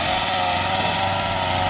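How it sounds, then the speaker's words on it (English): A chainsaw runs steadily and loudly while cutting down trees during garden cleanup after a hurricane, a constant buzzing engine drone with no pauses or speech. "his chainsaw, cutting down trees"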